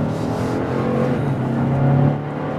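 A Genesis GV70 with a 3.5-liter twin-turbo V6 accelerates toward a freeway, its engine a steady droning hum heard from inside, building slightly in loudness near the end.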